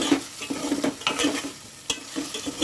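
Eggs go into a pan of simmering egg pulusu masala. Soft sizzling runs beneath irregular clicks and scrapes of a utensil against the pan, fairly close, with no talking.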